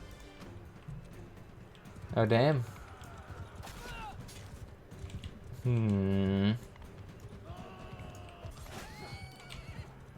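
Horses in a Bannerlord battle, with two loud close neighs, one short and one longer and sustained, over a constant background din of hooves and fighting, while someone talks briefly.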